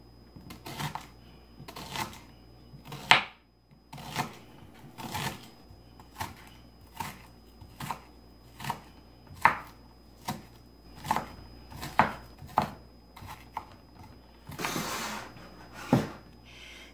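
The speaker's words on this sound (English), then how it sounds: "I'm going to chop up a shallot" A knife chops a shallot on a cutting board in about twenty crisp, evenly spaced taps, close and clear against a quiet kitchen, with one brief scraping pass near the end.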